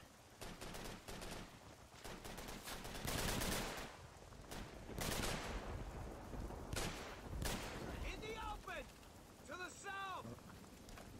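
Automatic gunfire in Call of Duty 3, a World War II shooter, with dense rapid bursts of shots and heavy recoil, loud and sustained, under someone talking excitedly.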